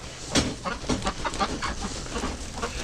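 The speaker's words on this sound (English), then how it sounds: "I've got chickens, and the chickens want to get the snow off my feet." Chickens cluck in a tight, busy flock around someone at a snowy coop gate, their short overlapping calls close and steady throughout, with one louder squawk near the start.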